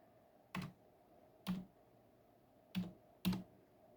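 Four separate, crisp keystrokes tapped on a computer keyboard at an uneven pace, close and fairly quiet, with a faint steady hum underneath and no one talking.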